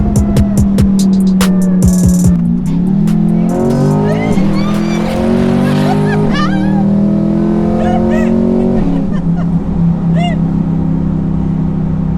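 A powerful turbocharged C8 sports car engine, fitted with an ETS turbo kit, revs and accelerates hard, its pitch climbing through several gear changes, loud and close throughout.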